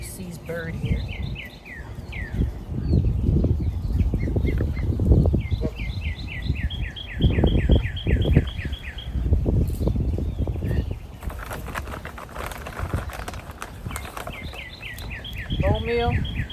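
Birds chirp in short repeated trills in an outdoor garden, rising above rustling and handling noises, with a person talking in between.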